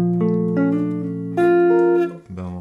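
Guitar notes ring out one after another, building into a sustained jazz minor major ninth chord that lingers before a final lower strum.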